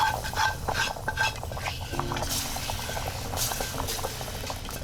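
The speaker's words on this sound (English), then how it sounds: "Then we are going to add that into our already boiling stew." Vegan bean stew boiling hard in a pot, steady bubbling with metal spoon stirring and clinks against the pan, close and fairly loud, no talking.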